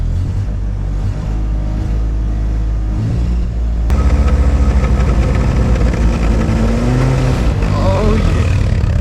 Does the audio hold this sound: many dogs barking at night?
no